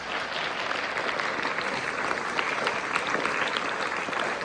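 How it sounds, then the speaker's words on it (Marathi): Students in an audience clapping to welcome guest speakers at a school science magic event, a dense, steady round of applause heard close and unbroken. "let's welcome Mr. Sanjay and Mrs. Jyotsna Deshpande with a huge round of applause"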